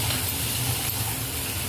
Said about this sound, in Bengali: ভালো করে কষানো হচ্ছে।